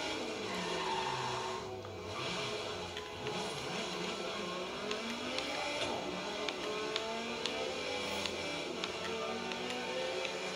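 Car engine sounds from the Forza Horizon 3 video game play as the car weaves through traffic: a faint, continuous engine drone with shifting revs and occasional clicks, and no one speaking.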